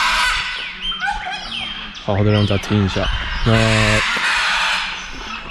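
A macaw gives loud, harsh squawks in repeated bursts, close and forceful, with a person talking over the calls at the start.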